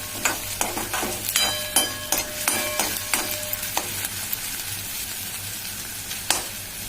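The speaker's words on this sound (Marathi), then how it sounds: "आपण आता कांदा छान तळून घेऊ।" Onion frying in hot oil in a pan, a steady close sizzle broken by repeated scraping strokes of a spatula stirring, several sharp clicks of utensil on metal, no talking.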